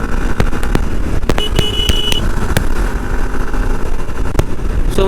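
A Hero Xtreme 160R BS6 2021 motorcycle with drum brakes rides at high speed, around 90, giving a loud, steady roar of engine and wind with sharp clicks and bumps.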